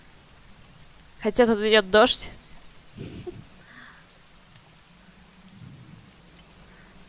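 Steady, soft rain falls in the video game Tunguska: Secret Files, a constant hiss lying low throughout while someone speaks briefly over it near the start.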